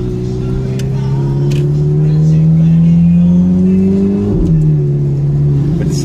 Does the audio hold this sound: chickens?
no